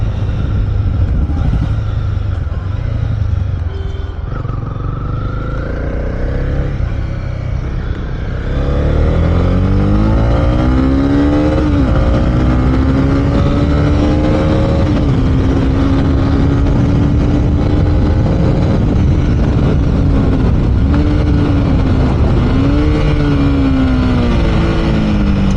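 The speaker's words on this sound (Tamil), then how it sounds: "ஹையர் ஆர்பிஎம்மில் நல்லாவே இன்ஜின் சவுண்டு ஓக்கலாக இருக்குது. செம்ம சவுண்டு வருது." A Honda CB300R BS6 motorcycle, a light 300cc bike, with its engine rumbling low, then rising and pulling harder as it accelerates through the revs, loud and close while riding.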